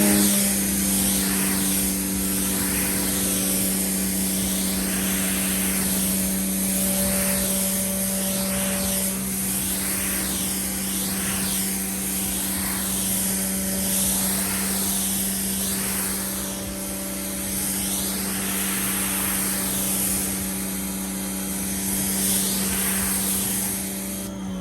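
A foam car wash sprayer hoses down a car in a long, steady, loud hiss over a constant motor hum, running unbroken for about 25 seconds with no one talking.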